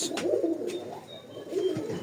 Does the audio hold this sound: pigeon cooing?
yes